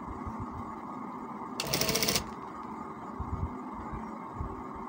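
A sewing machine stitches a kameez in one short burst of rapid whirring, about half a second long, rising over steady room noise in an otherwise quiet space.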